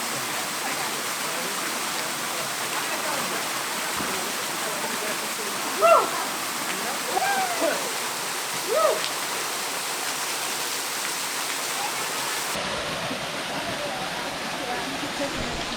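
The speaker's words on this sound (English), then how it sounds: "waterfall." A waterfall on a Hawaii hiking trail gives off a constant broadband roar close by, with a few faint brief sounds over it and a slight drop in the rushing near the end.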